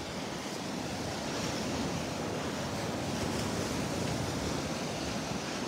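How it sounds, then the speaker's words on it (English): Steady north breeze rushes across the microphone along with a broad wash of surf on a beach in North Naples, Florida, constant and fairly loud throughout. "It's a little bit of a breeze coming from the north."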